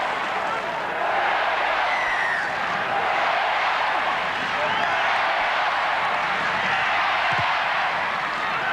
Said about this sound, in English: Might only be a small crowd, but they're urging the home side on